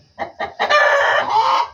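Two short, sharp clucks from caged chickens lead into a sustained, loud crowing call close by, all within under two seconds and with no talk.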